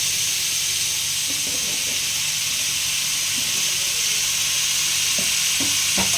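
Potatoes frying in a pan of hot oil while cooking a papaya and potato curry, giving a steady, even sizzle and hiss throughout with a few faint clinks of utensils.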